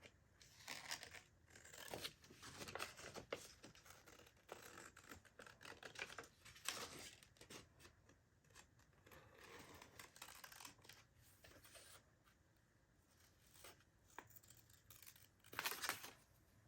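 Scissors cutting paper scraps for a journal craft, a series of quiet snips and rustles in irregular bursts, faint and close, with handling crinkles between cuts.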